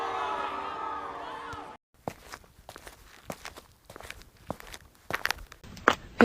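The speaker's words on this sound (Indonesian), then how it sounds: "Aldo jangan lari-lari" Quick footsteps of a child running in the Sakura School Simulator game, a run of sharp, uneven taps following a brief musical passage, fairly close.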